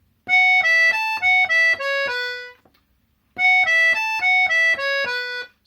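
An accordion plays a short bar of bright reedy notes in a quick rising and falling pattern, then pauses briefly and repeats the same phrase, clear and close.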